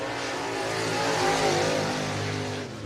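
Late model race car engine screaming at high revs as it digs through turns 3 and 4 on the track, a steady loud drone heard from the booth throughout.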